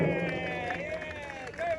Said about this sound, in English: Can we have a round of applause for Rocco?